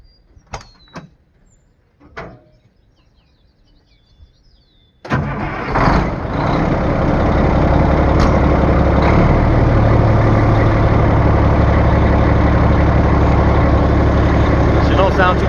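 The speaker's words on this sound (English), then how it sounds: "We'll fire up the old truck so you can" An old straight-piped truck engine cranks with a few clanks and clicks, fires up abruptly and settles into a loud, rough, rumbling idle that holds steady close by.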